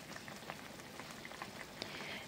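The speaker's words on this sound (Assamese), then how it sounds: "উতল আহি গৈছে" An Assamese fish curry with mallow greens, jujube, ginger, garlic and chili paste boils in a pot, giving a faint, steady patter of small bubbles popping with no one speaking.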